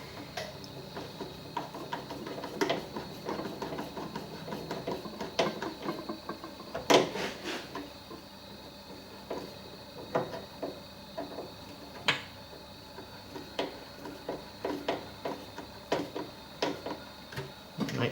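Tightening a fitting on a Ford Model T radiator during a cooling system repair gives a quiet string of small metallic ticks, clicks and taps at an uneven rhythm, close by, with no talk.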